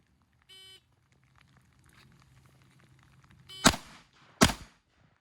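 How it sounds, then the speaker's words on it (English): Two sharp, loud handgun shots ring out about a second apart at a coaching range, each cracking with a short decay, following a brief electronic beep and low ambient rumble. "Fire 2 shots."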